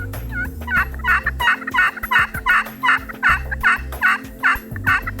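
Wild Osceola turkeys, a group of toms and jakes in open pasture, gobbling repeatedly in a steady series of loud rattling calls, roughly one every half second, with no talk.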